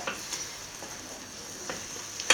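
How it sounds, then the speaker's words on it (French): Salted butter caramel being stirred slowly in a pan, a steady soft sizzle with a few light scrapes and clicks of the utensil against the pan. "On laisse prendre, tout doucement, et on remue de manière à ce que cela soit complètement homogène."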